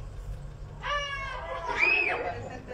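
A few children shout and squeal at a distance at a live children's music show, over a roomy background murmur, two brief bursts of excited yelling.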